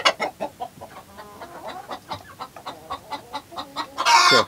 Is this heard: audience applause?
no